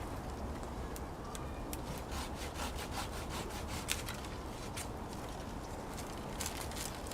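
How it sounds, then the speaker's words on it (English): A Silky pruning saw cuts a fruit tree branch with a steady run of rhythmic rasping strokes, close and fairly quiet, over a constant outdoor background hiss and with no talking. "you see how nice this Silky saw cuts. Just a few swipes and the limb's gone."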